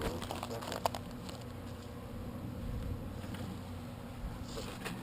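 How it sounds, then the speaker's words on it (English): Agitated bees buzz continuously around a hive, with a dense droning hum. It is faint to moderate and close, with a few soft clicks and knocks and no talk. "Look, unhappy bees."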